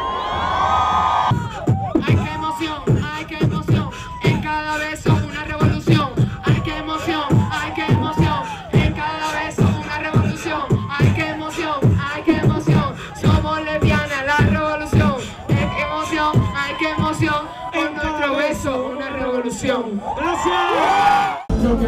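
A crowd at a lesbian march in 2009 cheers, whoops and shouts loudly for a long stretch, with rhythmic chanting voices mixed in and a single voice heard briefly at the start and end.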